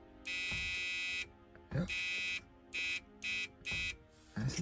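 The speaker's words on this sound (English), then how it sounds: "So if anybody wants to eliminate the noisy buzzer" Loud, harsh electric buzzer of the key-in-ignition warning in a 1979 Chrysler Cordoba, sounding in a long burst, then several shorter on-off pulses as the door is worked, with clicks and a brief spoken word.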